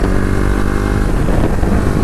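A modified KTM Duke 250 BS6 motorcycle accelerates hard in first gear, its loud engine note roaring close and continuous for about two seconds.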